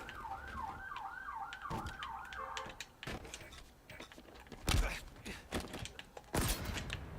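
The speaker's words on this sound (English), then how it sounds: "It's a police car going past my house." A police car siren wails past a house, its rising and falling two-tone sweep clear for the first couple of seconds before fading, followed by scattered loud thumps and clatter from indoors.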